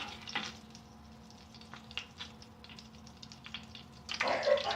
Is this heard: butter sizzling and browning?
yes